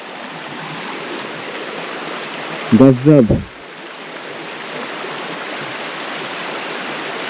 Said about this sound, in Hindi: ये देखो ऊपर से आ रही है पूरी नदी